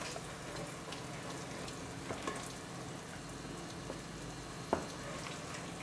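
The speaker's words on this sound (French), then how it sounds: "Vous mélangez et vous faites réduire pendant à peu près 2 minutes." Green peppercorn sauce for duck breast reducing in a pan, a steady close sizzle and bubbling with a few soft clicks of stirring.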